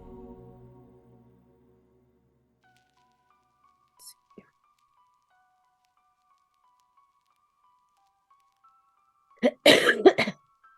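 A cluster of harsh coughs erupts near the end after long near-silence, close and loud, with a faint tick earlier.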